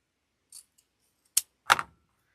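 Scissors snip ribbon from the fold to the wire for a patriotic storm door wreath, with a few sharp, close cuts separated by silence.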